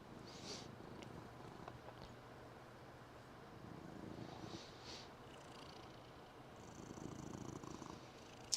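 A cat purrs softly and steadily on its owner's lap during a quiet meditation, a close, low continuous rumble with brief faint higher rustles and no talking.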